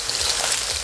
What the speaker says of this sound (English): After another 30 seconds of stir frying, we can add the clams.